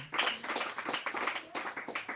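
Church congregation applauding, a dense run of overlapping claps with uneven bursts and a brief dip near the end, fairly close and loud.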